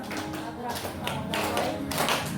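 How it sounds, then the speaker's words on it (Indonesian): A classroom of children claps along to a song, a handful of loud, uneven clap bursts landing over voices singing with musical accompaniment. "tepuk-tepuk saja, sambil tepuk-tepuk saja"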